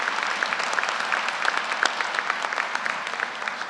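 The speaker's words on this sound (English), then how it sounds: "let's give them a round of applause." A crowd claps steadily and continuously at a university graduate commencement ceremony, a full, even round of applause heard from within the room.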